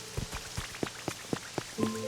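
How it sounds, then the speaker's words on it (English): Rain falls in the Pokémon Pokopia video game as soft, irregular patters and drops with a low tonal hum beneath them, ending in a slightly louder burst. "Let's see if this rain is on the other maps too."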